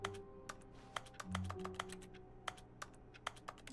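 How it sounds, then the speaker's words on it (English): Keys clatter in quick, uneven bursts of typing in the video game The Stanley Parable, crisp and close, with a faint electronic hum underneath. "Why is it making keyboard noises?"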